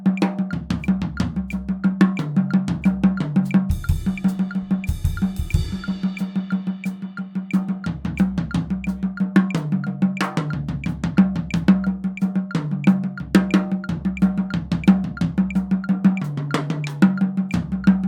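Floor tom struck in steady quarter notes with a quarter-note left foot under a sharp metronome click set to 90 BPM, a loud, close, even groove with no talking.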